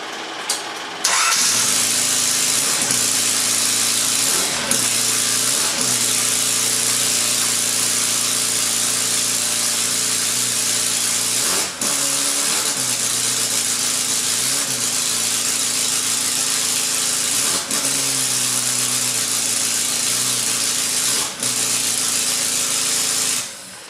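A supercharged Mini engine fires up and runs loudly and roughly for a long stretch, its droning idle broken by repeated brief dips and surges in revs.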